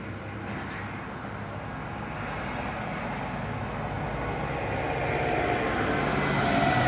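An Aer Lingus airliner arriving at Dublin Airport from Heathrow: a broad, steady engine roar that slowly grows louder over several seconds, with no voices.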